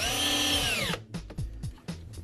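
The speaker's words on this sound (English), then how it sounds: "using a drill, you drill into your frame bracket" A power drill drives into a frame bracket on a kitchen unit with a rising whine for about a second, then gives several short, choppy bursts and clicks as the bit catches and releases.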